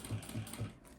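A sewing machine stitching along a makeup bag zipper with bias binding, a brief quiet run of regular rhythmic needle thumps at a steady pace.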